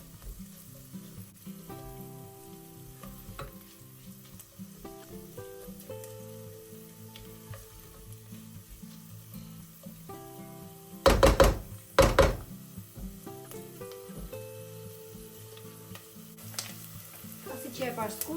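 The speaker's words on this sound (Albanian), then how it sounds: "Me 2 lugë vaj të skuq një qep." Chopped onion fries in two spoonfuls of oil in a pan, giving a steady soft sizzle throughout, broken near the middle by a few loud knocking thunks.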